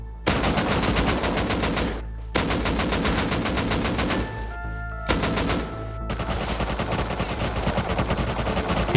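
Rapid automatic gunfire in the video game Rust, loud and close, coming in long sustained bursts separated by short pauses.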